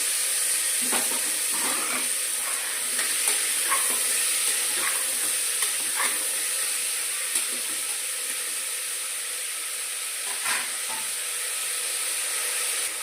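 Chopped onion, tomato, green chilli, carrot and beetroot frying in a pan for paneer biryani, a steady close sizzle and hiss with occasional scrapes and clinks of stirring, no speech.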